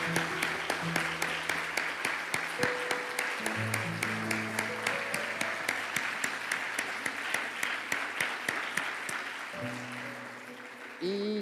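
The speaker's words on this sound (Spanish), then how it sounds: "yo le pido un fuerte aplauso para Dios" A church congregation applauds with rhythmic, unified clapping in a steady beat, while musical tones sound underneath and the clapping tapers off near the end.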